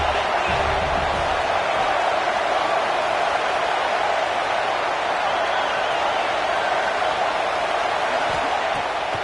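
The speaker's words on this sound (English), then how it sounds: "This crowd bringing the energy and noise early." Stadium crowd at a Notre Dame vs. USC college football game roars in a constant, loud, unbroken wash of noise that fills the whole stretch.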